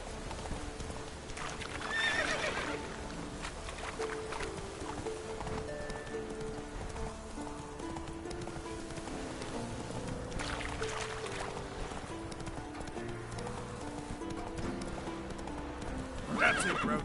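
Roach, a horse in The Witcher 3, gallops with steady clip-clopping hooves throughout and neighs loudly near the start, with a rider's brief voice at the end.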